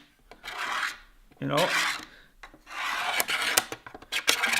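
A panel on a Ford Bronco build being scraped down in repeated close, rasping strokes with short pauses between them. Someone speaks briefly over the scraping.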